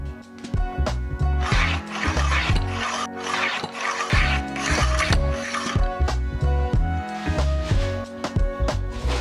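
Cricut cutting machine working through prints on a mat, giving busy mechanical whirring, clicking and rubbing with carriage movements in shifting bursts, close and fairly loud, no talking.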